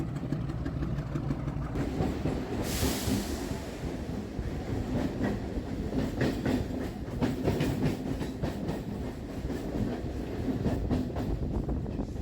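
A Howrah to Digha local train runs with a steady rumble and rhythmic clickety-clack of wheels over rail joints, continuous and fairly close, with a brief hissing burst early on.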